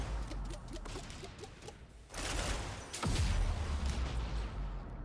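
Turret gunfire in a video game, a dense fusillade of rapid shots running through the whole stretch, growing louder and heavier partway through with a deep booming burst near the end.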